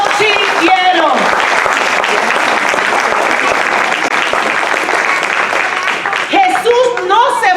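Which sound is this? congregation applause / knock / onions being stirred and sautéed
congregation applause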